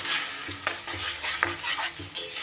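Ground banana stem paste frying with mustard seeds in a pan, a steady sizzle broken by repeated scraping stir strokes, close and moderately loud, with no voices.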